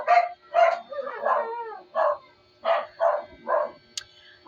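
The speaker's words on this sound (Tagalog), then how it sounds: "Ingay, mga aso tumatahol." Dogs bark in a rapid series of about eight loud, close yaps with short pauses between them, heard in a quiet room during a tarot reading.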